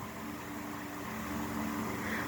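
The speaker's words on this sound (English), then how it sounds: "So here's wind noise on high. Very strong fan, moves a lot of air" A 1988 Dayton Lasko 16-inch oscillating table fan, model 4C508, runs on high with a steady, close, airy whoosh and a low motor hum that barely changes and has no voices over it.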